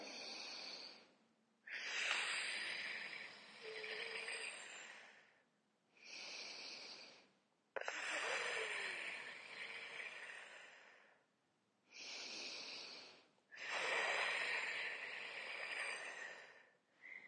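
A person standing upright taking slow deep breaths, each long airy inhale and exhale close to the ear, repeated in several steady waves with brief pauses between and no talking.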